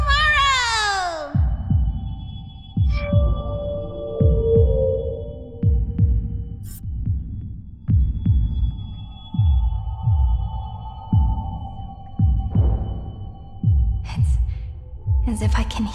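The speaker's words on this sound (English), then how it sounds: "As if I can hear the sound of my heart beating." A steady heartbeat thumps in a Honkai Star Rail story finale, regular low double pulses repeating about every one and a half seconds, fairly loud with soft musical tones over it and no talking.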